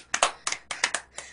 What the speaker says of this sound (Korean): 응원해줘, 박수 치면서.